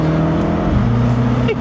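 Mini Cooper Convertible engine droning steadily up close, then dropping in pitch midway as it downshifts, with a voice heard faintly under the engine noise.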